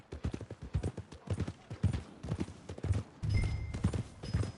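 Horse hooves clip-clopping at a walk in Red Dead Redemption 2, a steady, fairly close rhythm of dull hoof strikes with a faint tonal game sound entering near the end.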